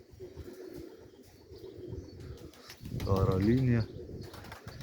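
Pigeons coo in a loft of old-line Kherson pigeons, a low bubbling call rising clearly near the end over steady background noise, while someone speaks briefly.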